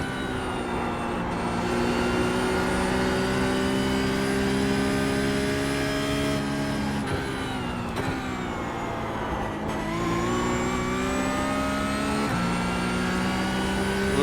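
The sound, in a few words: Porsche 992 GT3 Cup race car engine, iRacing video game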